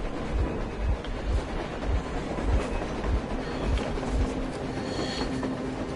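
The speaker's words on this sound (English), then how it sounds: "A train! A damn train on the surface!" A train rumbles past in the video game Metro Exodus, with rhythmic clattering wheels and a low, heavy roar, fairly close and steady throughout.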